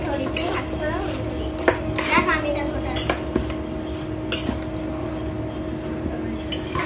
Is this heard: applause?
no